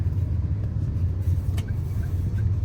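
Steady low rumble of car traffic heard from inside a vehicle in the Philippines, a continuous engine and road drone with no clear voices.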